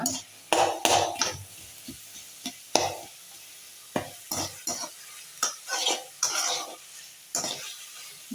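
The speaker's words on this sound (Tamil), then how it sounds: "நல்லா கிண்டி விட்டுட்டே இருப்போம்" Onions and tomatoes frying in a pan are stirred in about a dozen separate scraping strokes. Each stroke is a close, bursty scrape over a faint sizzle, with short quiet gaps between them.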